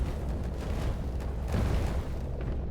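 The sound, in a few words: building destroyed in the video game Instruments of Destruction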